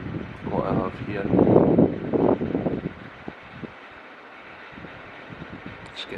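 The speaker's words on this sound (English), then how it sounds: "It's getting very windy." Strong wind gusting against an outdoor microphone at night during a lunar eclipse watch in Cyprus, loud rushing buffets under a voice that then settle into a steadier, quieter roar.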